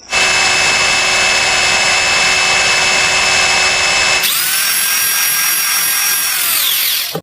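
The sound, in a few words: drilling a hole with a drill machine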